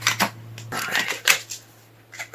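Tarot cards being shuffled and drawn for a reading, heard close up as a series of quick papery riffles and flicks in uneven bursts, loud at first and then tapering to lighter snaps.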